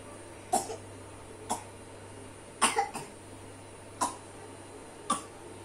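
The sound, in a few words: coughing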